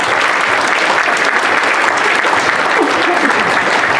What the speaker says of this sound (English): Ladies and gentlemen, big round of applause for Lauren.